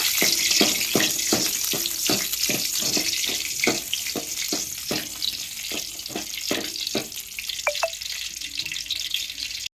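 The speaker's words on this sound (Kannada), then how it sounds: "ಇವಾಗ ಒಂದು ನಾಲ್ಕೈದು ಮೆಣಸಿಕಾಯಿ ತೊಗೊಂಡಿ ನೋಡ್ರಿ ಸ್ವಲ್ಪ ಅದನ್ನ ಫ್ರೈ ಮಾಡ್ಕೋಬೇಕು" Green chillies fry in a hot pan for a village-style dish, a steady loud sizzle running throughout with a rapid series of sharp scraping or stirring knocks pulsing over it, no voices.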